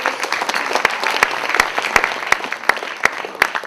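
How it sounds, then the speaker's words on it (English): Spontaneous applause from guests at the Santa Clara 2013 Pyramid Awards dinner, a lively room of clapping with a few sharp, prominent claps standing out near the front, heard alone without speech. "I was going to ask for a round of applause, but you did it spontaneously, which is even better."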